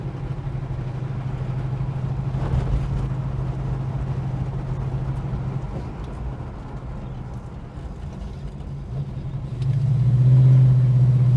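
A Holden HK car engine idles steadily with a low, even rumble, idle in need of retuning, briefly rising in pitch and loudness near the end as the revs lift.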